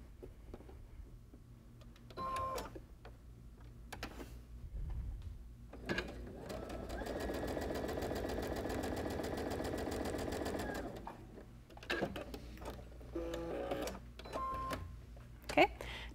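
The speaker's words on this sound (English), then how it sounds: "I'm just going to stitch along the side here using that 1/4 inch seam allowance." Sewing machine running a quarter-inch seam along fabric pieces placed right sides together, with a few short stitching bursts and then one sustained whirring run of about four seconds, close and fairly quiet, with handling clicks and soft talk around it.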